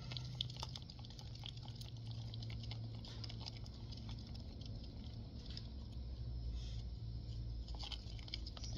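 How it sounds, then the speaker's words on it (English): Silicone mixture being stirred with a piece of quarter-inch plywood for making silicone fingertips, giving a faint, continuous scraping and soft tapping patter over a steady low hum. "Give it a quick stir."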